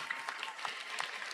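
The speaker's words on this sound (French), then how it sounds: "On les applaudit bien" A community New Year's greeting event where a women's team and their coach are clapped for by the audience, a short burst of steady, fairly dense applause filling the room.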